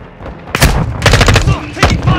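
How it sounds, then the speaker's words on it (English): Rapid bursts of gunfire from Call of Duty: Modern Warfare II, loud and close, with sharp cracking volleys breaking out repeatedly over about two seconds of combat noise. "Look, taking fire."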